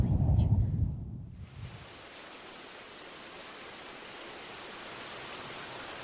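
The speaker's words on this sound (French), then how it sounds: "Il faisait beau et tout d'un coup, il pleut des cordes" Sudden heavy rain shower pours down in a cartoon scene, a dense steady hiss of downpour rising abruptly after a brief burst of voices and continuing unbroken and loud to the end.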